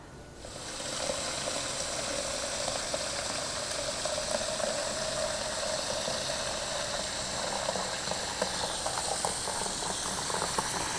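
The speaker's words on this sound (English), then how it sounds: "you're going to fill it with warm water" Warm water pours steadily into a container for making a clear ice ball, a continuous rushing, bubbling fill that keeps going for about ten seconds with no talking.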